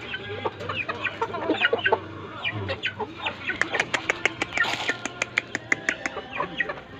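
Several chickens cluck and squawk close by at feeding time in a busy, overlapping chatter, with sharp repeated clucks growing denser toward the end.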